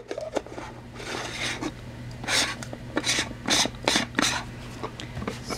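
A plastic lid is screwed onto the measuring cup of a Maxi Mist Lite spray tanning machine, giving a series of short, close ratcheting rasps in quick bursts over a faint steady hum.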